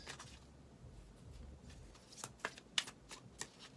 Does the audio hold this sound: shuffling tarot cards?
yes